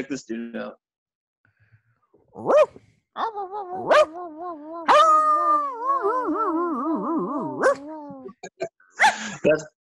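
A dog barks sharply, then breaks into a long wavering howl and whimper, with a few more short yips and barks after, close and loud in a quiet room.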